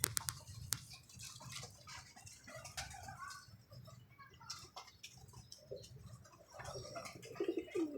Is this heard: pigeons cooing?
yes